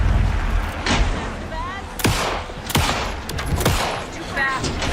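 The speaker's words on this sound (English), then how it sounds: "Anderson, pin him down with gunfire for me to get the light on him." Rapid bursts of gunfire crack out repeatedly in the video game Alan Wake 2, sharp shots echoing over a loud background, with voices mixed in.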